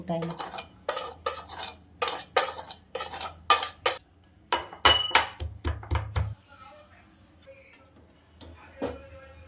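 Garlic and ginger being pounded in a kitchen, a run of sharp rhythmic thuds and clinks about twice a second, stopping partway before a few scattered knocks.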